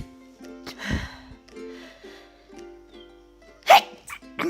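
A person sneezes up close: a sharp burst early on and a second, louder one near the end, with breathy, sniffly vocal sounds between them.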